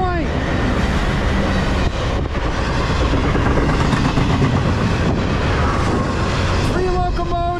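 A short freight train of three locomotives and five cars rumbles past close by on the Lehigh line, steady and loud with rolling wheel noise, and a horn sounds briefly near the end.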